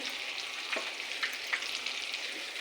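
Ginger-garlic paste sizzling in hot oil with frying lote (Bombay duck) fish, a steady close hiss with a few brief spatters and pops, no voices.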